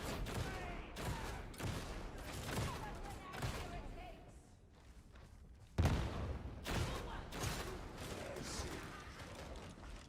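Rapid gunfire from the video game Damnation, loud bursts of shots repeating across the whole stretch with a sharp blast near the middle, while a player talks over the action.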